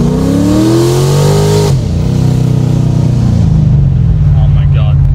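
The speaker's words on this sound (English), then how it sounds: "I'm gonna downshift a little." A 2008 Chevrolet Corvette 3LT engine revs up loudly, then drops sharply on a downshift and settles into a steady lower drone. Close in-cabin sound with a brief voice near the end.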